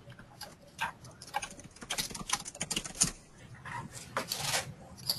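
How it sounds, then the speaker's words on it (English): Someone types on a computer keyboard during a call, with irregular bursts of close, light key clicks at varying speed. "I can hear you typing away"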